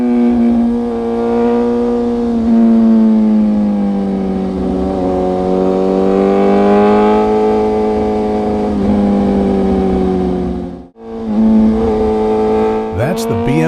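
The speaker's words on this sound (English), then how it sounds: "That's the BMW S1000RR." A BMW S1000RR sport motorcycle engine drones loudly and steadily with rising and falling pitch, briefly cutting out near the end before revving again, with no talk over it.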